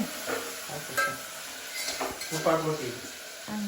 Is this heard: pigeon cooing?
no